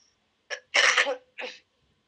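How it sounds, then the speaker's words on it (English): A person coughs three times in quick succession, close and fairly loud, with short silences between, the middle cough longest and harshest. "Excuse me, I'm coughing."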